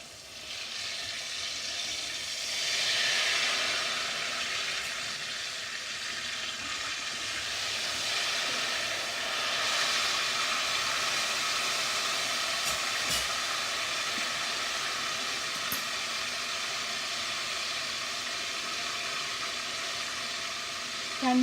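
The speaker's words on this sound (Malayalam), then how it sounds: "രണ്ട് സൈഡും ഫ്രൈ ചെയ്ത് എടുക്കുക." Kerala ela ada frying in hot oil after being flipped, giving a steady broadband sizzle and hiss that swells slightly at times, close and continuous with no talking.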